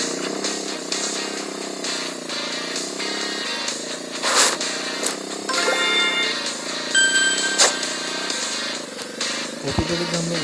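A motorcycle engine revs and whines continuously in a bike stunt racing game on Android, loud and steady with rising and falling throttle, game effects and a brief crash-like thud near the end, with no speech over it.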